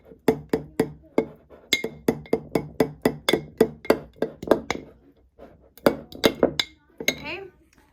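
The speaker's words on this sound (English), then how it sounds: "give this a good stir" A spoon stirring sourdough starter in a glass jar, a rapid run of close, bright clinks against the glass that pauses briefly and then resumes with a few more taps.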